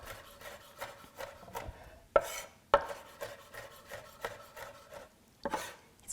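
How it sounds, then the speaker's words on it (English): A knife finely minces a Fresno pepper on a wooden board, giving close, rapid rhythmic chops with a few sharper, louder knocks among them. "So finely mince this Fresno pepper."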